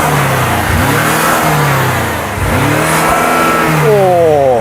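A BMW M5's 4.4-litre twin-turbo V8 engine revs hard close by, holding high, dipping briefly, then climbing again with a rising howl at the end.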